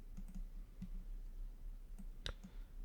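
A single mouse click lands on a Print button in PDF bookmark printing software, with a few faint soft clicks scattered around it in a quiet room and no talking.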